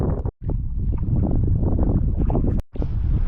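Steady, rushing wind buffets the microphone aboard a small boat crossing the Curonian Lagoon from Nida toward Klaipėda with a tailwind, loud and continuous with two brief dropouts.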